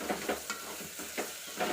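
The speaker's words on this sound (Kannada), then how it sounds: "ತೆಂಗಿನಕಾಯಿ ಕೂಡ ಸ್ವಲ್ಪ ಫ್ರೈ ಆಗಬೇಕು ಚೆನ್ನಾಗಿ, ಅಲ್ಲಿವರೆಗೂ ಫ್ರೈ ಮಾಡ್ಕೊಳ್ಳಿ." Grated coconut and bean seeds fry over low heat in a pan for a beans palya. Soft sizzling runs under several stirring scrapes that come at an uneven pace, all close and fairly quiet.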